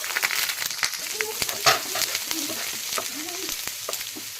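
Steady sizzle of onions frying in a pan, punctuated by light stirring clicks and scrapes, close and moderately loud.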